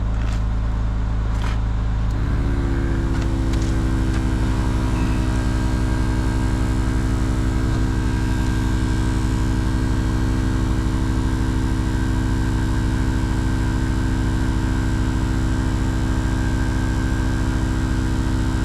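Viair 300P portable air compressor running while inflating a car tire, a loud, steady mechanical drone with a buzzing motor hum that starts up and shifts pitch early on, then holds constant and close, with no talking.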